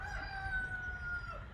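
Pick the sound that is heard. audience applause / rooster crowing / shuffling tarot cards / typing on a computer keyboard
rooster crowing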